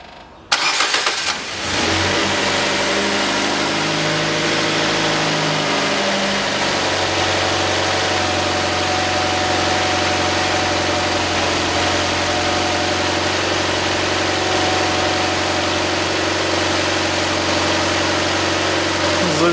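A 2012 Nissan Qashqai 2.0 engine cranks briefly, fires up at once and settles into a steady, raised warm-up idle, heard close and loud without talk.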